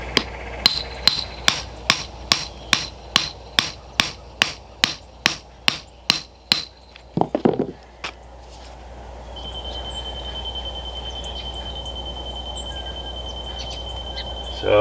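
A hammer drives a wooden concrete form stake into the ground outdoors beside a porch, about fifteen sharp, evenly spaced blows in quick succession, then a short clatter and a low steady background hum.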